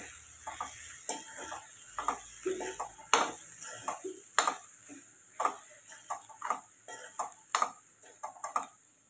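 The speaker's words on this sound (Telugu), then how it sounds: "బంగాళాదుంపని వేసుకుని కలుపుకోవాలి" Boiled potato being added to a pan and stirred in, heard as faint, scattered clicks and scrapes of a spoon against the pan, soft and close, with no speech.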